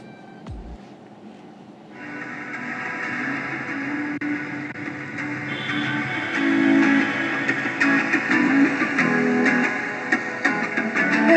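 Electronic NCS dance music plays through a cheap RGB-lit budget speaker, starting quietly then jumping to a fuller, louder mix after about two seconds and continuing steadily.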